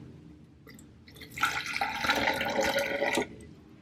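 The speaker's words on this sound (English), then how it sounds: "I'm actually pouring a little bit of water now, very carefully." Water poured carefully into a mason jar packed with tulips, a close, steady trickling and splashing that lasts about two seconds and then stops.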